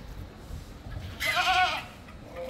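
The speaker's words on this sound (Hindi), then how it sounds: "दिखाओ पूरा बकरा, दिखाओ चलता फिरता, भागेगा बकरा" A black Kota goat, a two-tooth buck of about 55 to 60 kg, lets out one clear bleat lasting about half a second midway through, close by over a low outdoor murmur.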